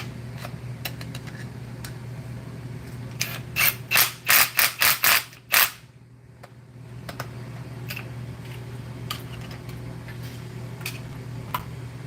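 A ratchet wrench turns a 19mm bolt while a kitchen food waste disposer is installed: a brief burst of rapid clicks stands out over a steady low hum, with scattered ticks around it.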